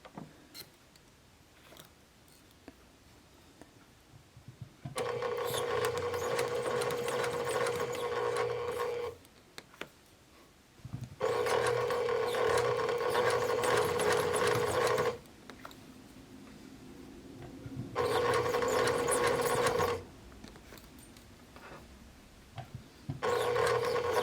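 A sewing machine stitches fabric pleats in three long runs of steady whirring, each several seconds long, separated by quiet pauses. The sound is close and clear with no talking.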